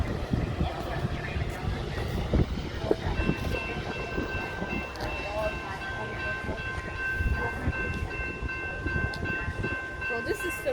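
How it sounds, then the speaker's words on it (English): A Metra commuter train passes at Clarendon Hills: a continuous rumble and rolling clatter of railcars with a sustained horn-like tone, heard from trackside over the full stretch, with people talking now and then. "There we go, second metro train."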